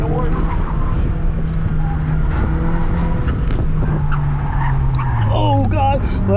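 Honda Fit tires on a staggered setup squeal continuously while cornering hard at an autocross at Evergreen Speedway, with wavering high-pitched skidding over steady engine drone and someone talking throughout.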